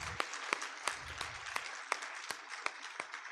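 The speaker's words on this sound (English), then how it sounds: "A huge, huge round of applause for Rajita." Sparse applause at a Bharatanatyam Arangetram dance debut, heard as sharp, separate claps spaced fairly evenly, slightly distant and fairly quiet.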